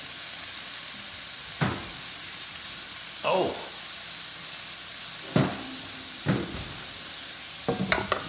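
Beef tenderloin and potatoes frying in a pan give a constant sizzle, broken by several sharp crackling bursts and scraping stirs as they are turned, with a brief exclamation from a voice.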